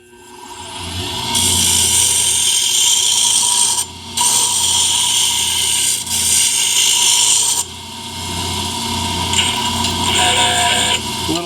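A wooden pen blank spins on a lathe as a cutting tool turns it down to a smaller diameter, giving a loud, steady scraping rasp. The cut pauses briefly twice and then carries on close by, with no voices.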